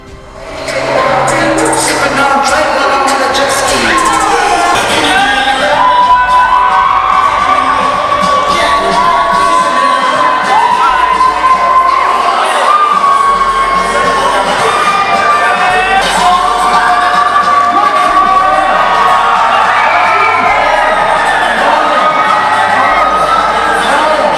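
A large crowd of fans cheers, whoops and shouts continuously over loud music at a university cultural week dance performance, the roar staying steady and dense throughout.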